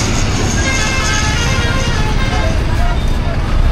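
Busy highway traffic in Nepal rumbles loudly and steadily, with engines droning close by and a few faint horn toots mixed in, while people talk over it.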